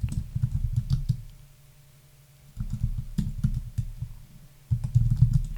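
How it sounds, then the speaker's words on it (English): Bursts of steady computer keyboard typing as a search term is entered, close and fairly loud, with a pause of about two seconds between the first and second runs of keystrokes and a third run at the end. "we'll type in a term"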